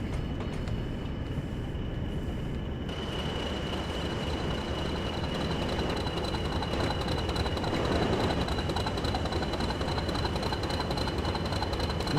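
A BR Class 40 diesel locomotive in Train Sim World runs steadily from Stalybridge to Huddersfield in winter, its engine a constant loud rumble with a thin high whine and mechanical rattle throughout, no voices.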